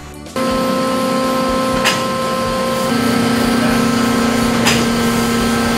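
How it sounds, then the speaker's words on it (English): A honing machine works the inside of hydraulic cylinders in a machine shop, giving a loud, steady mechanical hum with a tonal whine and two faint clicks. "We hone the internal surface of the cylinders to ensure long seal life."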